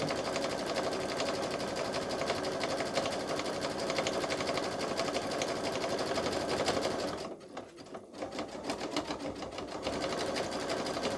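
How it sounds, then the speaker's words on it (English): A Babylock Solaris Vision sewing machine quilts a bag with a continuous, fast mechanical whir and needle rattle, close and steady, pausing briefly before resuming. "for that little machine to do all that quilting, it was not easy, but it was possible."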